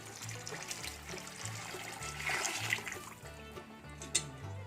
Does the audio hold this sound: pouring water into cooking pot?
yes